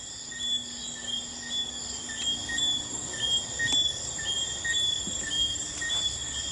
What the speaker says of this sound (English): you can hear those like crickets and frogs and stuff outside